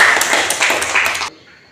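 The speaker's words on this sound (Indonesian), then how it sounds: "Oke, kasih tepuk tangan." Classroom applause, a brief burst of many hands clapping quickly and close by, which cuts off abruptly after about a second into near silence.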